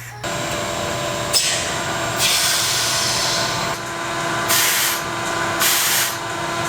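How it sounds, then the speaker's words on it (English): Powder coat sprayed onto a motorcycle part for a Yamaha XV250 Virago bobber build, a continuous loud hiss over a steady mechanical hum. The hiss swells several times as the spray gun is triggered harder. "I'm just going to powder coat this while I'm at it"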